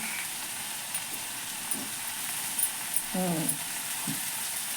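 White eggplant pieces, cut fairly large, frying in a pan for an eggplant, egg and garlic dish, a steady low sizzle and hiss throughout with a few brief stirring scrapes and clinks near the middle.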